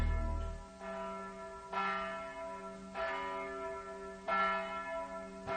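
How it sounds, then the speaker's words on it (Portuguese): Church bells toll in slow, evenly spaced strikes, each ringing out and fading, heard from a moderate distance with no voices. "eu ouvi os sinos soarem na igreja ali perto"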